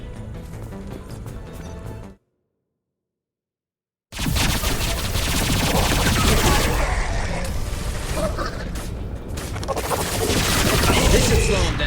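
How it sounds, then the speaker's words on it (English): Heavy gunfire from high impact shots in the video game Mass Effect 2 erupts in dense, loud bursts after a brief moment of silence, with rapid blasts and crashes layered together, close and continuous. "Firing a high impact shot."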